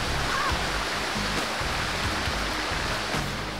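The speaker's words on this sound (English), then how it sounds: "Let's just get away from that waterfall so I can actually hear myself." Steady roar of a waterfall in the video game Halo 2, a loud, continuous broadband rush of falling water filling the whole clip with no pauses.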